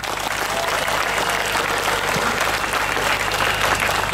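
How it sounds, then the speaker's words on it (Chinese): An audience bursts into sustained, dense applause at a political forum held in a coffee shop in Johor, the clapping loud and continuous throughout with no speech over it. "拍手。"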